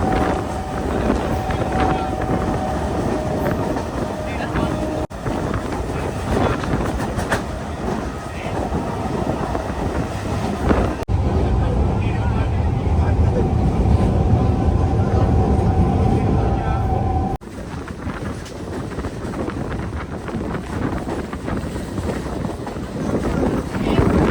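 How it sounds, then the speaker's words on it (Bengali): A boat on open water in the Sundarbans, with a steady engine-like rumble and a faint hum, buffeted throughout by loud wind noise on the microphone. Low voices murmur in the background. "আমাদের নৌকা চলে এসছে আর এই নৌকাতে করেই কিন্তু আমাদেরকে ওপারে যেতে হবে"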